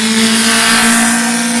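A race car at the Barbon hill climb holds a loud, steady engine note with a strong sustained tone, running close and continuous throughout with no voices.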